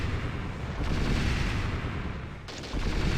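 Sustained gunfire and explosions from the video game Shogo: MAD roar loud and dense throughout, with a brief dip near the end before the blasts resume.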